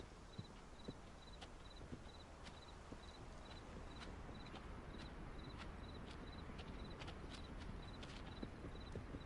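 Soft animal footsteps clop in a steady, faint rhythm across the ground in the hunting video game Way of the Hunter, with scattered small clicks and a low background hiss.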